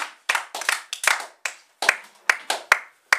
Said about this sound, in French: Vous pouvez déjà l'applaudir et l'acclamer comme il le mérite